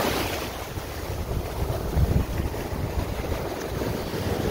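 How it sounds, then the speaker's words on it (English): Offshore wind gusts across the ocean on a chilly day, a loud, steady roar with microphone buffeting and a low rumble of surf underneath, no voices. "actually the wind's picking up, making it feel a little cooler"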